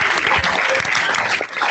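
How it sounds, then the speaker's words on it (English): Warm round of applause from an audience welcoming Pro Football Hall of Famer Jim Brown, dense steady clapping filling the whole moment at close range. "join me in giving a warm round of applause to Pro Football Hall of Famer, Mr. Jim Brown"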